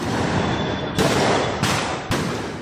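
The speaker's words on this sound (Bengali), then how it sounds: "এক পর্যায়ে সংঘর্ষকারীদের ছত্রভঙ্গ করতে সাউন্ড গ্রেনেড ও কাঁদানে গ্যাসের শেল নিক্ষেপ করে পুলিশ।" Police firing sound grenades and tear gas shells to disperse clashing protesters in a street in Sylhet: three loud, sharp blasts about half a second apart, each with a rolling decaying boom over crowd noise.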